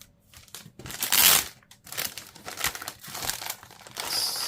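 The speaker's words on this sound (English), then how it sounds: "Let's get the keyboard out and put the box away." Cardboard and plastic packaging crinkle and rustle in bursts as a keyboard for a Galaxy Z Fold4 is unpacked and its box set aside, close and uneven with brief quiet gaps.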